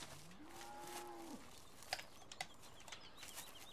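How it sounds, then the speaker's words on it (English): A single drawn-out moo from a cow on a farm in the Farming Simulator 17 video game, fairly close, followed by faint scattered clicks and ambient farm sounds, with no talking. "Hi, cows."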